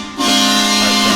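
Truck air horn in American Truck Simulator, a single loud sustained blast that starts abruptly and holds steady for about a second with no talk.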